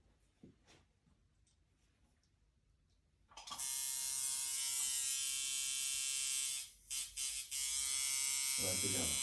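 A restored and adjusted coil tattoo machine run at 7 volts kicks in with a loud, steady close buzz that holds with brief dips, after quiet handling noises and some speech beforehand.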